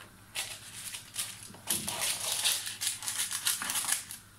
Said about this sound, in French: Je prends les ciseaux comme ça.